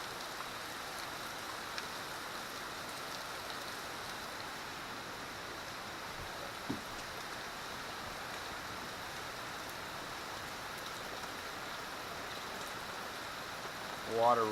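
Heavy rain and running water pour outdoors during a very wet summer, making a steady, even hiss that holds unbroken throughout at moderate distance.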